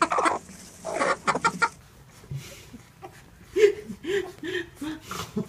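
Chickens cluck in bursts near a litter of kittens, several hens calling loudly and close in the first seconds, then softer, scattered clucks and small calls with faint rustling.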